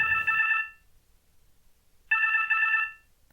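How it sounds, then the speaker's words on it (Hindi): A telephone rings twice in electronic trilling bursts, each lasting about half a second and separated by a pause of silence. "फोन उठाओ जरा।"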